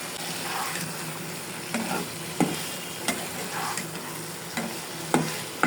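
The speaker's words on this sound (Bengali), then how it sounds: "আর একটু কষাবো, কষানো হলে পরে পানি দিয়ে দেবো।" Hilsa fish head and tail sauté with spices in a hot pan, giving a steady close sizzle of frying. A spatula stirs and scrapes throughout, with sharp knocks against the pan every second or so.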